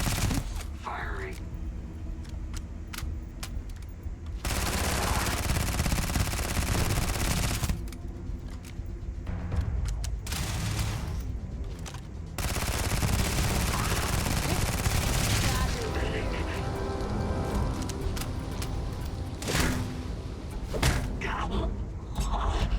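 Sustained gunfire in the video game Starfield, with dense bursts of rapid automatic shots broken by short pauses, loud and close amid thuds and impacts.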